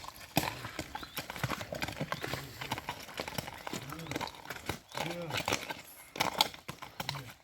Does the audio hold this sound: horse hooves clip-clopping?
yes